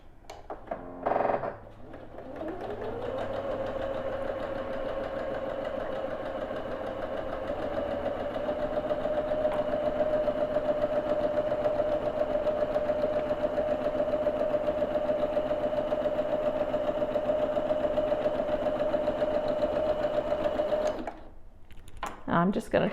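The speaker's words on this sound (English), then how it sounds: "I'm going to stitch a 1/4 inch seam" A sewing machine stitching a quarter-inch seam on a quilt top, starting after a few handling clicks and then running in one long, steady, even whir close by before stopping with a rustle of fabric.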